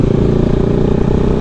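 A Bajaj Pulsar NS200 motorcycle is being ridden, its engine droning steadily and loudly up close with a rough, pulsing low rumble and no break in the sound.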